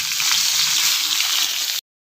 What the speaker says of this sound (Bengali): এদিকে আমার কই মাছটাও ভাজা হয়ে গেছে, তো আমি এটা নামিয়ে নেব